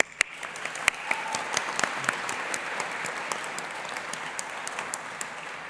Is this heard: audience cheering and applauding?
yes